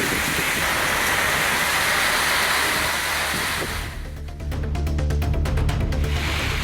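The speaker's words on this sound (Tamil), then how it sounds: "பெரம்பலூர் மாவட்டத்தின் பல்வேறு பகுதிகளிலும் நள்ளிரவிலும் பலத்த காற்றுடன் கனமழை கொட்டி தீர்த்தது" Heavy overnight rain with strong wind in Perambalur district roars in a dense, continuous wash, with a brief dip and a gusty surge partway through.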